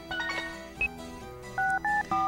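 Telephone keypad dialing in the Japanese dating-sim game Tokimeki Memorial 2: a short series of clean electronic DTMF tones, some brief and some held, played in quick succession over faint background game music.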